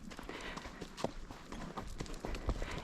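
Hooves of a seasoned trail riding horse clip-clopping in an uneven walking rhythm as she is ridden on a loose rein, fairly faint and distant.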